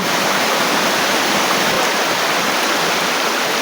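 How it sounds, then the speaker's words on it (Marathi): Water rushes steadily and loudly, a continuous hissing flow of a river in the Konkan with no other sounds standing out. "आपण आता आलेलो आहे नदीमध्ये"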